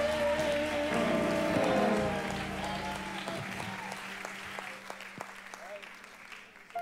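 Congregation clapping hands at a district conference worship service, a loud, dense round of applause over sustained music and voices, gradually thinning and fading out.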